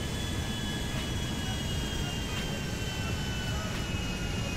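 A plane landing on a runway in GTA 5, its engine drone and rushing air a constant close roar with faint high tones, steady throughout, no talk heard over it.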